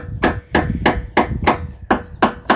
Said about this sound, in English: So you can actually just tap them in.